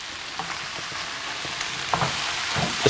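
Keto crack slaw with garlic and ginger sizzles in a pan while it is stirred, the steady close hiss broken by spatula scrapes and light knocks against the pan.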